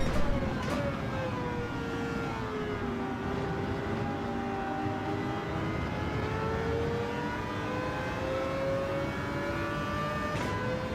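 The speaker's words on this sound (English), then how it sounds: "We're going to rev this bad boy out then." Car engine revving in Gran Turismo 7, a steady loud drone whose pitch rises and falls as the revs change, held for several seconds, with faint clicks over it.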